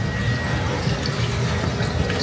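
Water gushing steadily from a pulled supercharger cooling hose on a Toyota Innova 1GD biturbo, a loud continuous rushing splash close by with no gaps.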